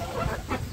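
Local desi chickens and a large rooster in a backyard coop give a couple of short clucking calls, close and moderately loud, with no talk.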